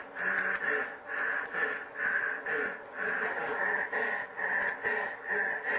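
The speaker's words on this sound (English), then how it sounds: "It's a lot of heavy breathing here." Heavy, rhythmic breathing repeats steadily, each rasping inhale and exhale pulsing about twice a second, close and filtered as if through a radio or mask.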